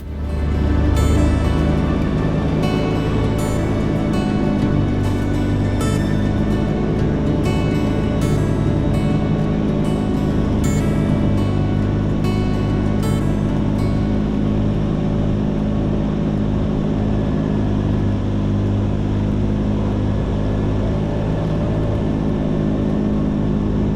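A Kawasaki Teryx UTV running in 4-wheel drive while pulling a homemade groomer, a loud, steady engine drone that holds for the whole stretch, close up, with no talk.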